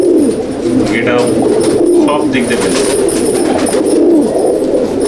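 Madrasi pigeons coo close by in soft, repeated rolling calls, with someone talking over them.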